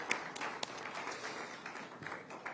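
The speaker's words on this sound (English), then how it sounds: "Please, round of applause for the Minister." An audience at the ZEDCON 2024 conference applauds the Minister of Finance, a steady, fairly faint wash of clapping with a few sharper claps standing out.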